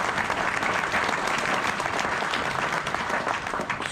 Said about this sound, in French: Jean-Charles, je crois qu'on peut t'applaudir.